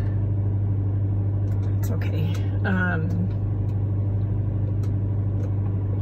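Inside a car sitting in a driveway, the engine runs with a steady low hum while a person speaks briefly and a short squeak or chirp cuts in near the middle.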